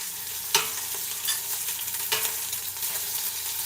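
Meat searing in a pan for rogan josh makes a continuous, moderately loud hiss. A few sharper clatters of stirring or turning break through now and then.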